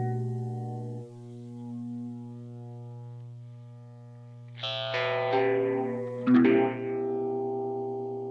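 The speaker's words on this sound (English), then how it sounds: "Spectre is a noisy pedal, folks. It makes a lot of noise" Buzzing electric guitar tones run through a heavy Spectre effects pedal, sustained drones that turn into a swelling, noisy, distorted wash with warbling textures.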